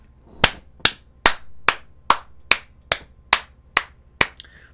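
Around eleven sharp, evenly spaced claps ring out one at a time in a slow, steady rhythm, loud and close with nothing else heard.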